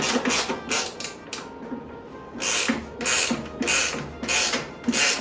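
Ratchet wrench tightening a nut during a go-kart restoration, with quick bursts of clicking repeated in several strokes, close and fairly loud, separated by brief pauses.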